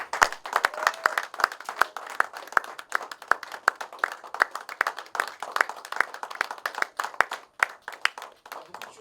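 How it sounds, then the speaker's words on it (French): An audience in a church service claps to welcome the pastor, with sharp individual hand claps standing out clearly in a loose, uneven rhythm rather than a blended roar. "recevoir, sous vos applaudissements, notre pasteur"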